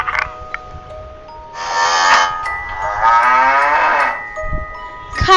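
A cow moos twice, long drawn-out lowing calls, loud and close, with a brief quiet gap between them.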